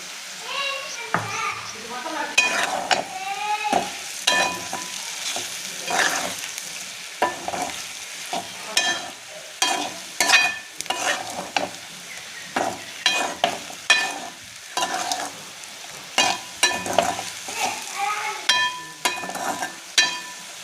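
Smashed brinjal being stirred and fried in a pan for a crispy brinjal fry side dish, with steady sizzling under repeated scraping stirs of the spatula, plus faint children's voices in the background.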